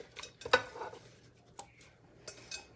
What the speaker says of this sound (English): We're going to go ahead and add in our florets.